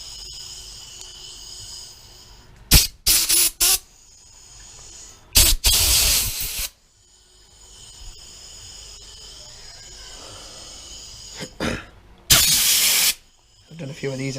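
Compressed air blasts through the jets of a pressure washer carburetor removed for cleaning, several short sharp hissing bursts, some doubled, separated by quiet gaps with faint background noise.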